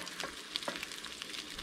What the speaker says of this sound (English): as that egg cooks, I want to just keep pulling things away from the edges and get as much contact with the pan as possible